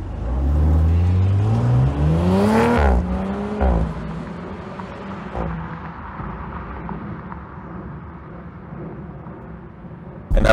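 A 2019 Audi RS5 Coupe with all-wheel-drive Quattro accelerates hard, its engine note climbing through a sweeping rising whine and shifting before settling into a steady, loud cabin drone heard up close, with no voices.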